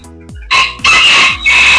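Golden Sebright chickens cluck loudly and close by, with a rooster's crow breaking in, several sharp calls in quick succession.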